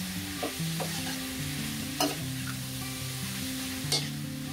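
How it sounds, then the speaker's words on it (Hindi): Shredded chicken for chatpata sizzles steadily in a pan as it is mixed, with occasional sharp scrapes and clacks of the spoon against the pan over the continuous frying hiss. "अच्छे से मिक्स करके आपको इसे 5-1 मिनट तक पका लेना है ताकि अच्छा फ्राई हो जाए"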